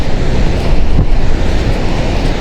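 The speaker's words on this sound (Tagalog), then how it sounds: "lakas hangin" Strong wind by the sea roars and buffets the microphone, a loud continuous rumble with a surf-like wash beneath it and no voices.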